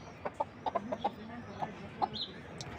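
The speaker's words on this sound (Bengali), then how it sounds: "সিল্কি মুরগিগুলি কন্টিনিউ ডিম দিচ্ছে" Silkie chickens cluck in a quick run of short, soft calls at close range, with a brief higher squawk near the end and no talking.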